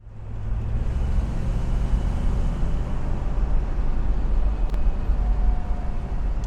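A 1966 Ford Mustang GT Fastback drives along with a steady, loud, low engine drone and broadband road rumble from inside the car, easing down in pitch as it shifts down from fourth gear; no voices.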